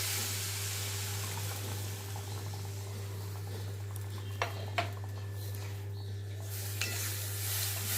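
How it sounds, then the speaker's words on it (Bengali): Curry sizzles and hisses loudly in a pan after hot water is poured in, a steady close frying roar with a constant low hum beneath and a few faint utensil knocks near the end. "গরম জলটা দিই।"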